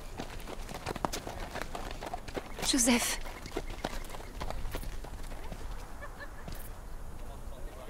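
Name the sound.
donkey hooves clip-clopping while ridden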